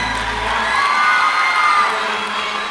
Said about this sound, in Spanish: Un fuerte aplauso, por favor, que hizo que se escuche tremendo.